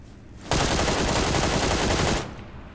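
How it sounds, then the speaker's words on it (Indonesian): Automatic weapon fire rings out in the battle royale video game PUBG. A single loud, sustained burst of rapid shots lasts under two seconds, then cuts off abruptly, with no talking over it. "Ada orang tembak aku ni."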